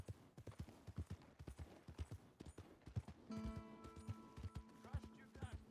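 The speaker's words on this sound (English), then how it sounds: "Fine horse you got there." Horse hooves clip-clop steadily in Red Dead Redemption 2, a fast, regular rhythm of close, sharp hoof strikes, joined midway by a sustained tonal hum from the game's world.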